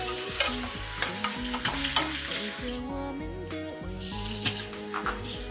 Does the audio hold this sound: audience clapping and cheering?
no